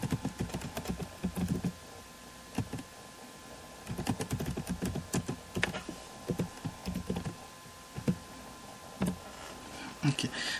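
Computer keyboard typing as a formula is entered, with bursts of quick key clicks broken by short pauses, close and moderately quiet, with no speech over it.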